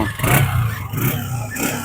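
A Honda CG 125 motorcycle engine revs up and down in several close, loud surges with a rough, clattering mechanical edge.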